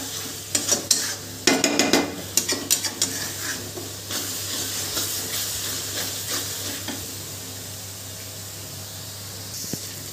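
Masala for a Telangana village-style chicken curry sizzles steadily in a pan, with a burst of scraping stirs and spatula clatter early on that settles into a constant, close frying hiss.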